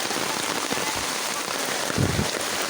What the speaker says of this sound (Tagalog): Na, sugod sa ulan.